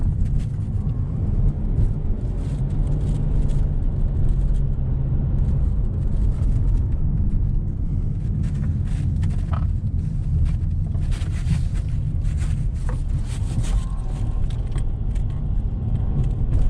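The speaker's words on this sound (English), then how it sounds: "Sounds like maybe a heat shield or something like that vibrating." A car's loose heat shield vibrating while driving, a faint rattling buzz buried in loud, continuous road and engine rumble inside the cabin.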